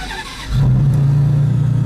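Maserati MC12 supercar with a Ferrari-derived V12, its engine surging into a loud, steady revving drone after a short quiet start, heard close up with no talking.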